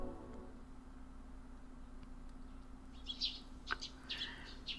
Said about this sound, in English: I hear the twittering of small birds outside the window.